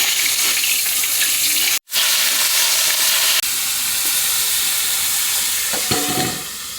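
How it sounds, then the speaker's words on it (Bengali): Hilsa fish frying in hot oil produces a loud, steady hiss that briefly drops out for a moment, then roars on and eases slightly toward the end, heard alone without voices. "তেল গরম হয়ে গেছে, মাছগুলো এখন ভেজে নেবো।"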